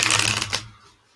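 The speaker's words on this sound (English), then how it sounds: "we'll do another wee riffle shuffle" A deck of playing cards is riffle shuffled once, a quick dense fluttering burr of cards interleaving up close, ending in a short snap and then quiet.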